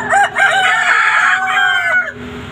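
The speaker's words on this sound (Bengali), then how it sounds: "এই যে ডিম পাড়া মুরগি আর হচ্ছে মোরগ" Rooster on a poultry farm giving one loud, close crow with a rising and falling cock-a-doodle-doo, a faint hen cluck behind it.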